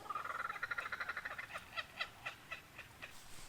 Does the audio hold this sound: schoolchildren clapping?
no